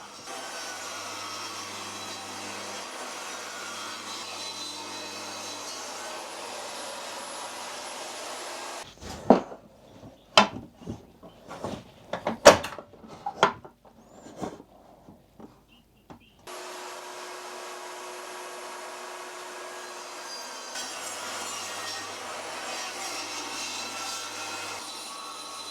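Router or power saw cutting an 8mm recess into wood against a fence: a steady loud machine whine runs, then stops for a stretch of clattering handling noises before the motor drones again.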